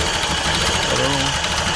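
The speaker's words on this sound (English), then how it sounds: "I'm going to take a wild guess that it's idling about 400 RPM." The engine of a 1931 Ford sedan idles at low RPM with a steady, close mechanical chug and faint rhythmic throb, running on its own.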